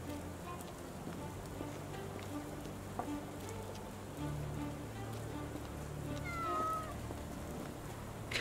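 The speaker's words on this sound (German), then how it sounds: "Kätzchen" A kitten meows in the Sherlock Holmes The Awakened video game, a brief high rising mew near the end over soft rain-like game ambience and faint background tones, fairly quiet.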